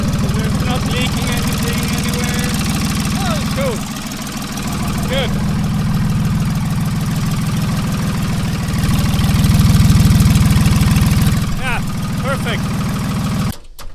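A Ford Dexta 2000 tractor engine idles just after an oil change, a loud, close, continuous diesel chug that rises and dips slightly, with voices talking over it.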